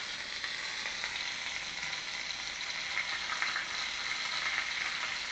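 Food frying in too much oil sizzles loudly and steadily, a dense hiss with small pops throughout and no voices.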